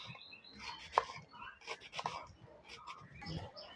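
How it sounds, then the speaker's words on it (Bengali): A knife chopping cabbage on a cutting board, a quiet, irregular series of close cuts and taps with one sharper knock, no voices. "এখন বাঁধাকপি কেটে নেব।"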